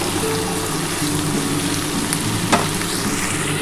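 Mixed vegetables fry in a pan for a vegetarian dish, a dense, steady sizzle close by with a single sharp clink partway through.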